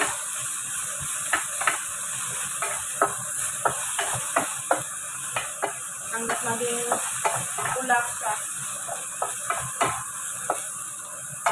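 Shrimp frying in a hot pan while being stirred, with a steady sizzle and repeated scraping clicks of the utensil throughout; a voice speaks briefly over the cooking.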